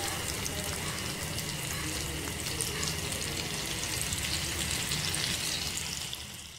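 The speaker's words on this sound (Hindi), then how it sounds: "और अब मैं मिक्स करूँगी 1 कप दही" Yogurt stirred into potato masala sizzling in a pan for dahi aloo biryani, a steady close frying hiss with soft stirring underneath, constant throughout and fading slightly at the end.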